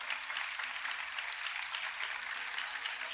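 A dinner audience at an awards event claps steadily and fairly loudly in a dense, continuous burst of applause that holds for the whole stretch, with no pauses.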